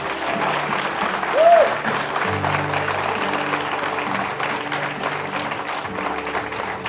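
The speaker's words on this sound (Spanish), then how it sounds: "Ahora sí, denle un aplauso al Señor." A church congregation applauds during a Spanish-language sermon, a loud continuous patter of many hands over a sustained low musical tone, with a brief voice or cheer rising early on.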